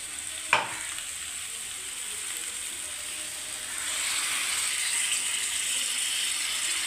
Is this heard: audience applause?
no